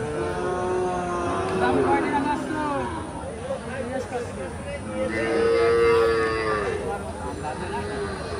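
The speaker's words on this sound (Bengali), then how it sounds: "অনেক অনেক এড়ে বাছুর এদিকে সবই বিক্রির জন্য" Cattle and young bull calves at a busy livestock market in Bangladesh, with repeated loud, drawn-out moos from nearby animals over a steady crowd murmur and people talking.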